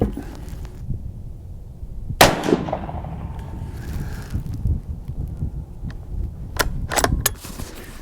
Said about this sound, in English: Again, this is a 22 Magnum. Let's fire 3 and then check it.